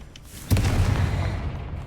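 A Confringo blasting curse explodes in Hogwarts Legacy: a sudden loud boom with a rumbling low-end tail that fades over the next second or so.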